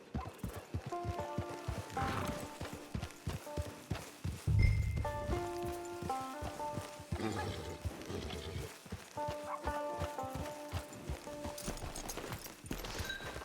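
Horse hooves clip-clop steadily in Red Dead Online, a rhythmic gait under tonal background music, with a brief louder thump midway and faint rain-like ambience.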